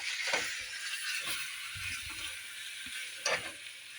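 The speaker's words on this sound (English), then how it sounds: "I'm going to stick my steak right in there" Seasoned chuck steak, rubbed with oregano, paprika, chili powder and cumin, sizzles in a hot pan: a steady close hiss with a couple of brief louder spits, no talking.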